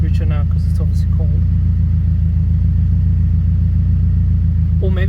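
A cold car engine idles rich with a loud, steady low rumble throughout, while someone talks over it briefly at the start and again at the end.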